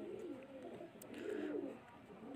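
Pigeons being released into flight at a loft in Faisalabad give off soft, nearby cooing and murmuring over a steady low background, with no talk during the brief stretch.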